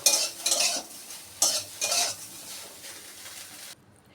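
Soybean chunks being fried in oil in a pan, with several bursts of scraping stir and clatter over a steady sizzle, close and fairly loud, ending abruptly.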